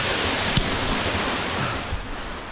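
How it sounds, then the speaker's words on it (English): Water rushes steadily at the top of a waterfall on the Scafell Pike corridor route, a loud, constant hiss close by, broken by a couple of brief bumps. "So that's top of the waterfall there."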